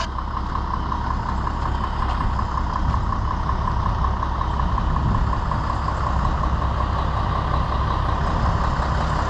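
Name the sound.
roll-off trash truck engine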